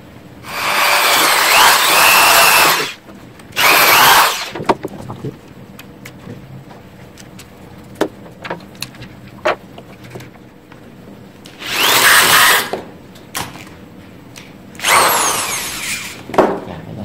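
A power drill bores into the hinge area of a Dell Vostro laptop in loud whirring bursts of a few seconds each, separated by quieter stretches of scraping, clicking and handling noises.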